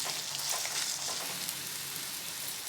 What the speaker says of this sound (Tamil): தக்காளி இந்த எண்ணெயிலே அப்படியே மசிய வதங்கி வரட்டும்